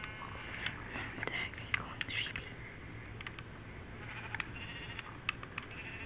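Minecraft sheep give a few brief, faint bleats among soft clicks and quiet game background, with a low voice murmuring.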